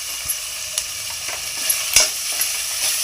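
Two tomatoes frying in a pan with ginger-garlic paste for chicken biryani, a steady close sizzle broken by a few sharp scraping stirs, with no one talking.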